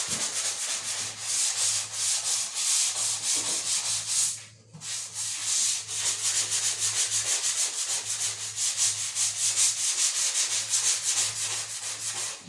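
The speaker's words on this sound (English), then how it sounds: "Now I like to sand with it at an angle on these edges" Continuous rhythmic scraping of a sanding tool over dried drywall joint compound, worked at an angle along edges, steady and close with one brief pause near the middle and no talking.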